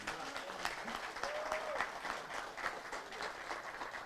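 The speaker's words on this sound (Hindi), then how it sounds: "जोरदार तालियां बजाएंगे।" Audience applause at a felicitation ceremony during a 2023 industry meet, loud sustained clapping from a large crowd filling the room for the whole stretch.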